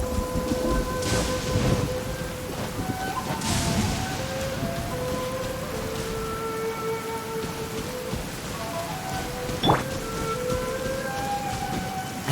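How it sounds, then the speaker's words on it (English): Rain pours steadily on surfaces in the video game Genshin Impact, a dense close patter with low thunder rumbling through it, while sustained tonal game music hums underneath. "It's raining."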